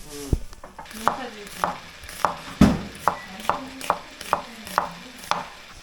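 Rhythmic knife chops strike a cutting board about twice a second as potatoes are cut, sharp and close, over a faint background sizzle.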